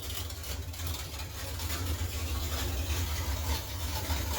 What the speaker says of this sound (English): The budget Suburban 3 or 4 or whatever this thing is finally runs again